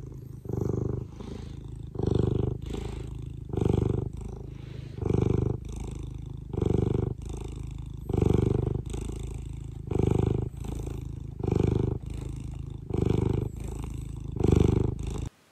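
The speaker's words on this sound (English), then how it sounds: "he was purring. And it sounded like a motorcycle, it was so loud" A house cat named Jack purrs loudly and close by, with a deep rumbling motor-like sound. It swells on each breath in a steady rhythm, roughly every second and a half.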